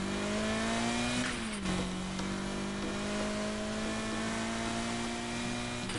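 Car engine in a PS4 driving game revving steadily, a sustained mid-pitched drone that dips briefly as if shifting gear, then holds level and loud throughout with no talking.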